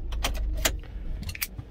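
Volkswagen Caddy flip key handled and turned in the ignition, a few close metallic jangles and clicks in quick succession with a low rumble underneath.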